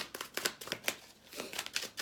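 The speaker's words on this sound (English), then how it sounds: "Okay, let's shuffle." Tarot cards are shuffled close up, a quick series of crisp riffling flutters and taps, fairly quiet, with no talking.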